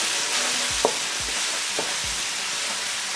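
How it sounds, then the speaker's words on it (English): A spoon stirs curry powder, turmeric and chilli powder in hot oil in a frying pan while cooking lauki chana dal. A steady sizzle runs throughout, broken by three or four scraping strokes. "Give it a good stir."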